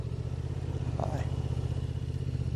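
A Honda Transalp 750 motorcycle rides through an old mountain town's main street at high elevation, its engine humming steadily and close by throughout.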